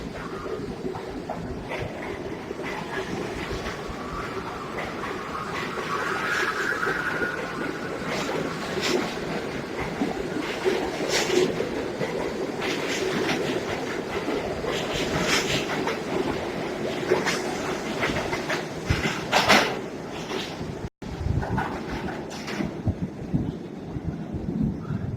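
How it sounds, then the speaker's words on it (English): An R68 subway car with Westinghouse 1447J traction motors running, a loud sustained rumbling roar with tonal motor whine rising and shifting over about twenty-five seconds, briefly cutting out near the end. "These cars sounded similar to the R44s on the New York City subway, and the R62As in RT."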